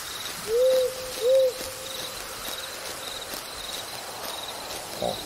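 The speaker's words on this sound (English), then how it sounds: "This one has owls." Two clear owl hoots close together open a night scene in the horror video game It's Dark, followed by a steady chorus of crickets and insects and a faint thump near the end.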